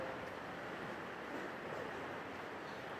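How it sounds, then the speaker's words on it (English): A river flows near a road on a cold, foggy November night: a faint, distant, continuous rushing wash with no distinct events and no voices. "So you can hear the river"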